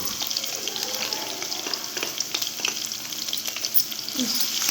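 Green chillies and garlic fry in a pan with a steady, bright sizzle and crackle, close and continuous, joined by light scraping from stirring; no voices.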